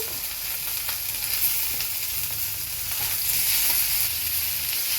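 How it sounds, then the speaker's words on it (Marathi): Chopped tomatoes and onion sizzle steadily in hot oil in a pan, a continuous close frying hiss with occasional stirring, no voices. "कांदा परतायला थोडं तेल टाकूया त्याच्यामध्ये हे चिरलेलं टोमॅटो टाकूया"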